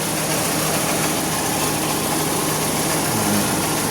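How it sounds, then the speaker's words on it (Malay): A car engine at idle, shaking slightly before an additive is used, gives a steady, even drone up close for a few seconds, with no voices. "macam inilah keadaan bunyi enjin dia."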